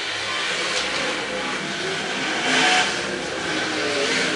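Modified race cars roar around a fifth-mile oval at night with a continuous engine drone that swells briefly as cars pass close by, and no talk is heard.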